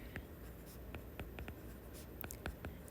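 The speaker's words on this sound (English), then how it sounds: "So we're gonna write that down here." Marker or chalk strokes on a classroom board during an algebra lesson, a series of short, faint taps and scratches at an irregular pace, quiet and without speech.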